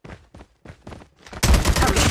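A burst of AK-47 gunfire in the mobile shooter game COD Mobile, a loud dense volley that starts abruptly after a second or so of quieter choppy game sounds and keeps rattling to the end.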